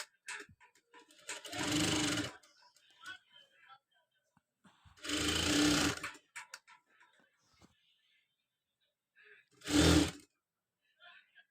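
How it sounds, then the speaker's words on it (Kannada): A sewing machine stitches the front part of a blouse in three loud bursts of running, each about one to two seconds long, separated by quiet pauses with faint handling noises. "ಈಗ ನಾನು ಸ್ಟಿಚ್ ಮಾಡ್ಕೊಳ್ತಿದ್ದೀನಿ"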